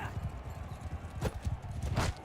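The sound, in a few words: horse galloping in video game Bannerlord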